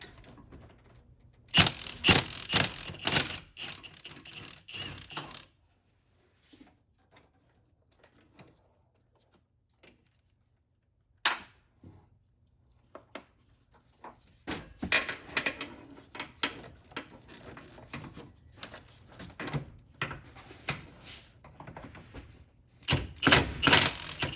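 A ratchet removes two 15mm master cylinder nuts from a fourth-generation Pontiac Trans Am F-Body with an LT1 engine, heard as close, quick clicking bursts separated by quiet pauses and light metallic handling.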